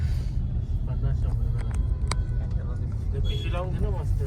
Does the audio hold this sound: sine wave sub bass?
no